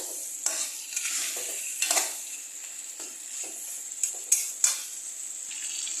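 Masala mutton is stirred in a pan as it fries, with a steady soft sizzle broken by scraping spoon strokes and a few sharper clinks against the metal, close and without talk.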